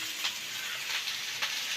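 Chicken fries in a home kitchen pan with a steady, bright sizzle and a few brief crackling swells, close and continuous, with no voices over it.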